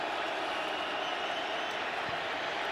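Sparse stadium crowd at Lumen Field during an NFL game in rain and cold, a steady broadband roar of cheering and applause holding constant throughout, fairly distant and diffuse.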